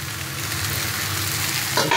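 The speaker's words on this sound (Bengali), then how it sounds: "একটু নেড়ে চেড়ে নিই, হ্যাঁ ভাজা ভাজা হয়ে আসছে" Water spinach greens stir-frying in a pan with crumbled lentil dumpling powder, a steady close sizzle with a few scraping stirs near the end and no talking.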